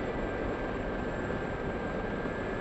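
Gazelle helicopter in the combat flight simulator DCS, a steady engine and rotor drone that runs evenly throughout, continuous and fairly close with no talk over it.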